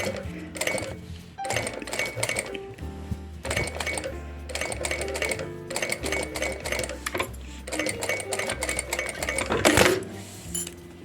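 A sewing machine stitches a zipper pouch with a window panel in repeated close bursts of rapid mechanical whirring, separated by short pauses.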